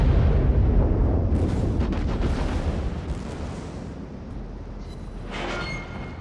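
Heavy naval guns of the USS Wyoming, a tier 4 battleship in World of Warships, boom in deep rumbling salvos. The roar rolls on and slowly decays, and a sharper burst follows near the end.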